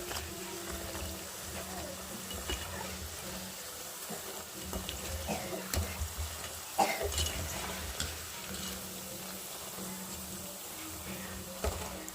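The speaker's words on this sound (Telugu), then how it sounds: "అన్నీ లైట్గా ఫ్రై అవుతా ఉన్నాయి పకోడీలు" Cabbage pakoras frying in hot oil, a soft continuous bubbling sizzle with occasional stirring clinks from the pan, heard fairly quietly beneath intermittent talking.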